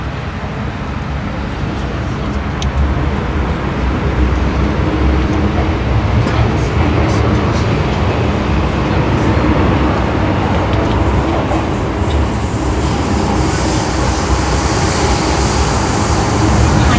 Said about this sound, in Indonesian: sekarang saya ada di dalam kereta